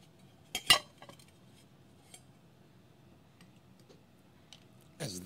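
Ice cubes drop into a glass of seltzer soda with a few sharp clinks, two close together and one more a moment later, over a quiet background.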